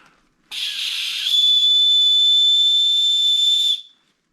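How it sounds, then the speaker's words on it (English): A small plastic whistle clipped to a secondhand camping bag gives one long, loud, piercing blast of about three seconds, steady and close, with a breathy onset before the tone settles. "Let's see if the whistle works."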